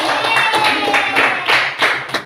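A classroom of students clapping hands together during an English lesson, dense overlapping claps running steadily throughout, close and loud, with faint voices mixed in.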